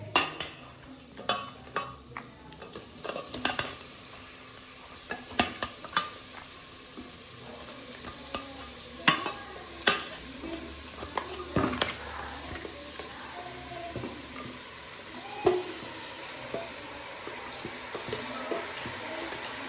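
Mutton fries in a pan at home while being stirred: a faint, continuous sizzle broken by intermittent sharp scrapes and clicks of the utensil against the pan.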